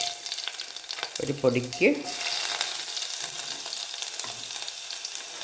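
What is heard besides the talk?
shallots frying in oil with mustard seeds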